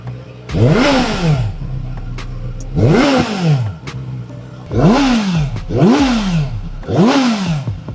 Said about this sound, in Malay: Okey guys, last kita tengok exhaust. Exhaust dia direka untuk mengimbangi pusat graviti berat motor tu lah.